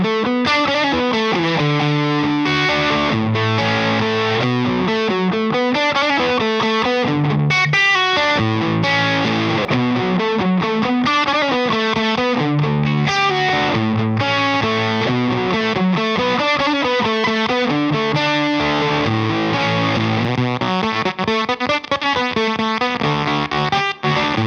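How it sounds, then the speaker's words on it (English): Electric guitar through a Wampler Cryptid fuzz pedal cranked clockwise gives a gated, spitty, heavily fuzzed tone, played as a continuous riff of distorted chords and notes that fills the whole stretch with no talking. "if you crank it and go clockwise, you will have more of a gated, spitty, very obviously fuzzy kind of sound"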